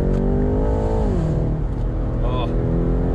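A 625 hp 2021 BMW M8 Competition convertible revs with the roof down, its engine note rising and falling close by under a man's speech.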